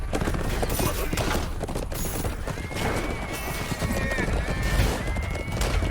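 Horses whinny and hooves clip-clop amid a busy, dense battle din in the video game Chivalry 2, with scattered pops and a voice speaking over the clamor.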